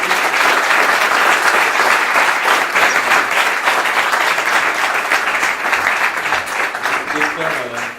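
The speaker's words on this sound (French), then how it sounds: "Merci Paulin, je pense qu'on peut l'applaudir." Sustained applause from a conference audience, dense and even, holding steady for several seconds before tapering slightly at the end.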